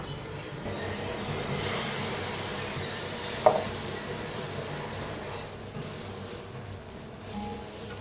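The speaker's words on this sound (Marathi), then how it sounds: "आता फिरवून घेऊया आपण दोन्ही साईडने चांगली भाजले आता पलटून घेऊया" A dosa cooks on a hot pan with a steady, close sizzling hiss throughout, broken once midway by a single short clink as it is flipped.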